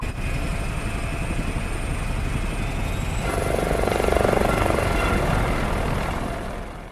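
A helicopter taking off: a steady, loud rotor and engine drone that swells slightly midway, then eases, with no talking.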